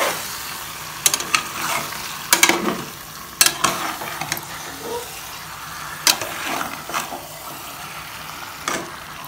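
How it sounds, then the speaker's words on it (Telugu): Chicken pieces being stirred with onion and tomato in a pan for a dhaba-style curry, with a steady sizzle and several sharp scraping strokes at irregular intervals, fairly close and without talk. "ముక్కలంతా ఆనియన్ టమాటా మిక్స్ అయ్యేలాగా కలుపుకోవాలి."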